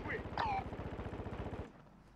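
Rapid automatic gunfire rattles from under a bridge in the video game Warzone, a fast, steady burst that stops abruptly, with brief voice-like sounds over the first half.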